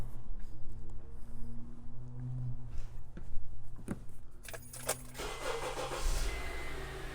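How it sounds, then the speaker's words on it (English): A car engine cranks and starts while a battery test runs, a dull churning crank followed by the engine catching and settling into a steady idle, close by and fairly quiet, with no talking. "and we're going to start the car."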